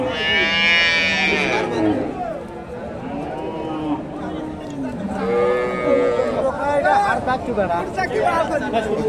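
A dairy cow with a calf bellows in long, loud, close moos at a crowded rural cattle market, several calls in a row over a continuous background of people chattering and talking.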